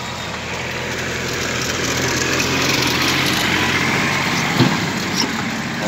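Brushcutter running among weeds in a coffee plantation, a steady buzzing two-stroke engine drone that rises slightly and holds, fairly loud and near, with brief thumps as it cuts.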